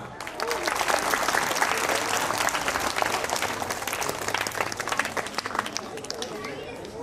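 Loud, sustained crowd applause greeting the chief guest arriving on stage at an Independence Day function, a thick steady clapping with faint crowd murmur underneath.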